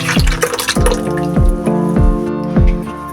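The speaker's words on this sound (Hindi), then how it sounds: "पे इमली को मैंने एक पैन में डाल लिया है और इसमें 1 लीटर पानी शामिल करूँगी।" Water is poured into a pan holding tamarind for a tamarind and plum drink, giving a close, bubbling glug with repeated dripping, splashing pulses about every half second.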